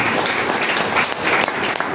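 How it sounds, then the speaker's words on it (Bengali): An audience at a Modicare business event breaks into loud, sustained applause, dense clapping close and continuous for the whole moment. "তো সবার জন্য আরো একটা জোরদার হাততালি চাইবো।"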